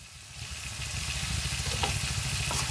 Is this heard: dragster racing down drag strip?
no